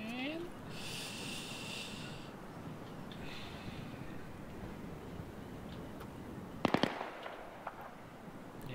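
Enemy gunfire in a military video game, heard southwest of the player as a tight cluster of sharp cracks about two-thirds of the way through, over steady wind and ambient noise.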